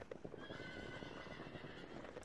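Horses in the Sacred Gold video game neigh with a drawn-out whinny while hooves clip-clop steadily beneath, fairly faint in the mix.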